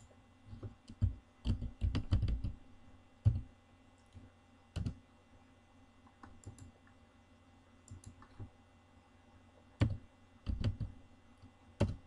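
Code being typed on a computer keyboard in Microsoft Visual Studio 2010, quiet close-up key clicks arriving in quick bursts and isolated taps with pauses between, no talking.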